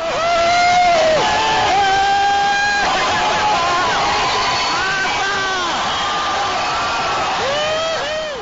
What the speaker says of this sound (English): police storm a major mall in Manama to disperse crowds chanting slogans against the UK-founded Saudi-backed monarchy